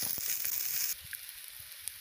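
Chopped onions frying in a pan over a low flame, a steady hiss for the first second that drops to a faint, soft crackle with occasional small pops.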